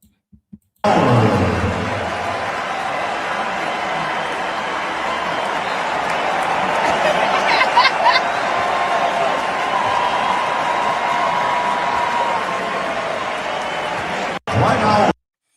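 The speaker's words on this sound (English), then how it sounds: "He had the fans going, cheering him on" A basketball game crowd roars and cheers in a steady, loud wash that runs almost unbroken, with a burst of applause near the end.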